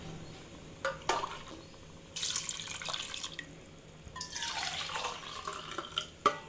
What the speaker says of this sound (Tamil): இதுக்கு 3 கப்பு தண்ணி சேர்த்துக்கலாம்.